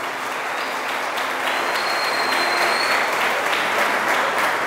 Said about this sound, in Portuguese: eu peço para ele uma linda salva de palmas